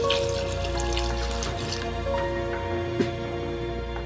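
Cold water running into a pot on the way to boiling parsnips, a steady close splash and trickle with faint drips, one sharp knock near the end.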